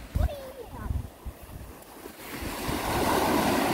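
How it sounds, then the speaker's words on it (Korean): Waves washing onto a beach at a seaside campground, swelling into a steady, broad surf roar in the second half, with wind, after voices and a few bumps near the start. "파도가 오늘은 아빠 그때 왔을 때보다는 훨씬 더 적어"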